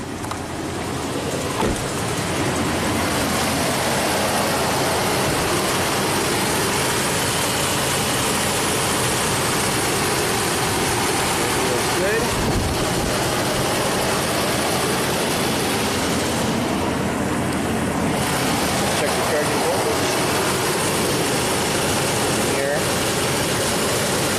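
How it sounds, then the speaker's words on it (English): A Nissan Armada engine idles steadily throughout, a continuous low rumble with faint exhaust manifold ticking, and a voice talks intermittently over it. "Has a little exhaust manifold tick."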